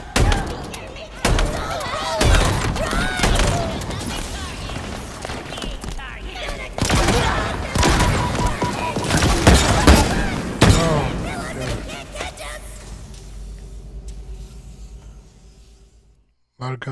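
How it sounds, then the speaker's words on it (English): Halo Infinite campaign combat brings sharp bursts of gunfire and thudding explosions, which come in separate loud hits and rattles under steady talk before fading near the end. "Gunfire equal explosion"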